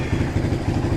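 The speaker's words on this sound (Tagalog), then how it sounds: "Ayan yung walang silencer." Motorcycle with a bullet pipe exhaust and the silencer removed, idling close by with a loud, throbbing, uneven putter over a brief second.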